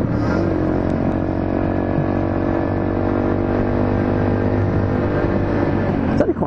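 Older vehicles on a street in Czechia, heard as a steady, close engine rumble with a low drone that holds throughout and no clear pass-by peak.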